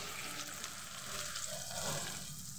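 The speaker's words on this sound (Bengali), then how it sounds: "ওই তেলের মধ্যেই পেঁয়াজ দুটোকে দিয়ে দিচ্ছি" Two chopped onions hiss and sizzle in hot oil left from frying potatoes for an aloo chicken curry, a steady close crackling fry with light stirring scrapes and no talk.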